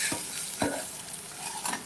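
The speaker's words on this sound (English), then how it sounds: "We can hear sizzling kind of nicely." Soft sizzling of an egg frying in a pan over medium heat, with a few stirring scrapes punctuating the steady crackle.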